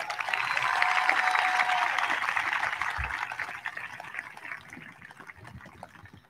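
Applause from an audience at a high school graduation ceremony, a steady wash of clapping heard from a distance that gradually fades, with no voices over it.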